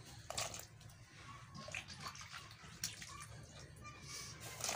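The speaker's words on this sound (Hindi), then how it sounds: "अब हम इसमें अपनी वेजिटेबल्स ऐड कर लेंगे भाजी की और इन्हें बॉयल कर लेंगे" Vegetables for pav bhaji dropped into a pot of boiling water, with splashing and a steady bubbling hiss, close and moderately loud, no talking.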